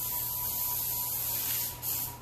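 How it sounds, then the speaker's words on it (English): A can of aerosol cooking spray hisses steadily for about two seconds, close up, as it coats fish before broiling, over a faint electrical hum. "I'm going to spray it a little bit."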